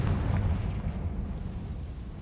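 Rumbling spell blast from a wizarding combat game, a dense low boom with sustained roar lasting throughout, loud and close with no speech.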